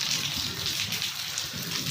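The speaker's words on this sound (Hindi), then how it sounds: "हाँ बारिश हो रही है" Steady rain falls during the first rain of the year at a home, a continuous broadband hiss that stays even and close throughout, with no voices over it.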